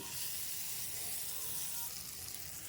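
Ginger sizzles in a hot tadka and kasuri methi goes in, giving a steady, soft, airy hiss of frying oil throughout with no clear pauses.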